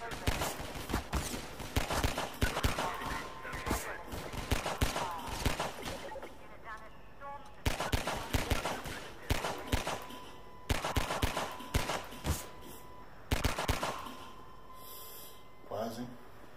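Bursts of rapid gunfire in Half-Life 2 crackle loudly in repeated volleys with short pauses between them, while someone talks over the shooting.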